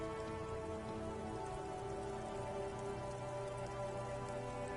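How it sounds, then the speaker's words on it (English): Steady rain pours down in the video game Disco Elysium, dripping from eaves and flooding gutters during a spring thaw; a continuous, even wash of raindrops fills the scene with no voices. "Rain drips from the eaves and floods the gutters,"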